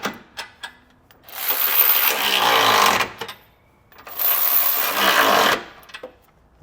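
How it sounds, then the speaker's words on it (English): Two bursts of a power impact wrench or ratchet driving an 11/16 socket onto bolts while fastening a Curt trailer hitch receiver to a 2018 Subaru, each burst about two seconds of loud mechanical whirring and rattling, separated by brief quiet clicks. "we can come back with an 11/16 size socket and snug it all down."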